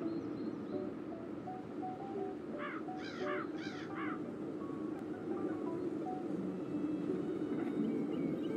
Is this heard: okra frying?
no